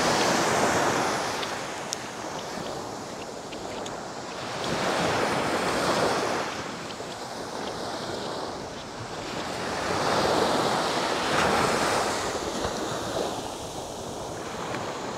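Surf rolls onto the coast of central Vietnam, waves swelling and breaking in slow surges with wind buffeting the microphone; no voices, steady and fairly close.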